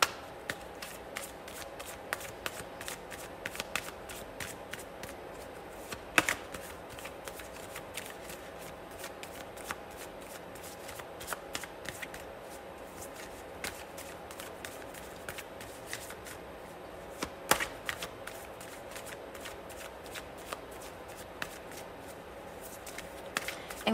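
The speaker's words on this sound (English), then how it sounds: "as always, I will shuffle live" A deck of tarot cards is shuffled by hand, producing soft riffling and scattered sharp card snaps that repeat irregularly, close and quiet, over a faint steady background hum.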